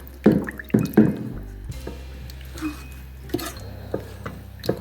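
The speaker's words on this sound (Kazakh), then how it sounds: "Сүтімізді жақсылап араластырамыз енді." Milk being stirred in a pot for a honey cake, with a few loud scraping clinks early on, then quieter intermittent taps and knocks of the utensil against the pot.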